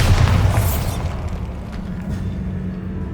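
A Bombarda spell blast in Hogwarts Legacy: a loud, deep explosive boom at the start that trails into a low rumbling decay.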